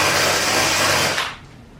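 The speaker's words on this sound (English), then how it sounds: "I'm removing the old foam with this wire brush and drill" A loud, high-pitched whirring grind of a drill-mounted wire brush scrubbing old foam off a car headliner, cutting off abruptly near the end.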